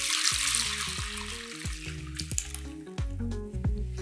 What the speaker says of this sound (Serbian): šerpu idem da operem